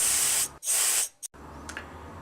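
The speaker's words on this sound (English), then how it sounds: "Do make sure you shake the can well before spraying" An aerosol spray paint can hisses in two long, loud bursts, then a quick short puff, each sharp and close, followed by a quieter stretch of faint room noise.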